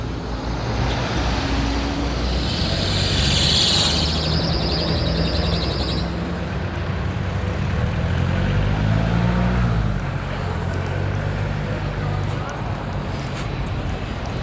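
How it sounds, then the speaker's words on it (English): Busy street traffic in Costa Rica heard from the roadside, a constant roar of passing cars and a bus with engine hum rising and falling, birds chirping faintly and a voice talking at times. "This is a lot of traffic."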